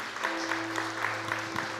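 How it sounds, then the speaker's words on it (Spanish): A church congregation claps together, producing a short burst of steady, moderately loud applause with a faint rhythmic pulse and a low electrical hum beneath, with no talking. "Dale un aplauso al Señor."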